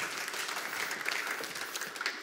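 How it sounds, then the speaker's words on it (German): A studio audience gives a soft, steady round of applause, distant and fairly quiet, with individual claps flickering through the sustained patter. "ich möchte gerne, dass ihr ihnen einen Applaus gebt"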